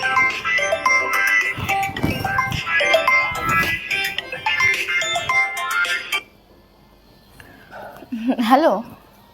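A phone ringtone plays repeatedly in a short electronic melody under a voice for about six seconds, then stops, leaving quiet room tone and a brief voice at the end.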